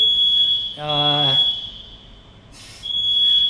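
A fire alarm going off in an apartment, a continuous high piercing electronic tone that drops out briefly and resumes, with a person talking over it.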